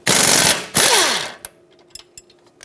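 A ratchet wrench loosening 17mm strut bolts on a 2013-2018 Hyundai Santa Fe gives two long, loud, close buzzing ratchet runs, followed by a few faint metallic clicks and taps.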